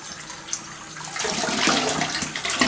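Water pours from a tap for a cold rinse at a sink, starting soft and building into a steady, bright splashing rush that runs on without talk.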